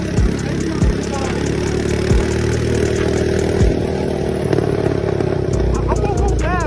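A mini bike engine runs steadily close by, a continuous mid-pitched idle with clattery mechanical texture and slight revving, while a person talks over it.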